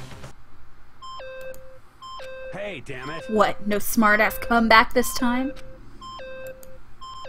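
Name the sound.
beeping sound in the video game Danganronpa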